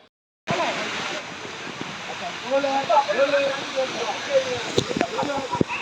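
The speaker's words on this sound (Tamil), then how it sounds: "குற்றாலத்தில் வாத்தியமில்லாமல் இசைக்கப்படும் இசை இந்த அருவியின் ஓசைதான்." The Five Falls waterfall at Courtallam roars in a constant broad wash of falling water, while a voice talks over it for most of the stretch.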